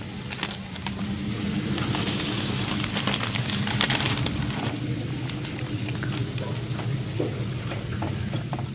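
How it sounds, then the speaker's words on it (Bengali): A pot of water boils on the stove as noodles go in for homemade mixed chow mein, giving a close, steady bubbling and sizzling hiss that runs throughout with small clicks and stirs. "এদিকে আমার জল অলরেডি ফুটতে শুরু করেছে। আমি এর মধ্যে নুডলসগুলো দিয়ে দিচ্ছি।"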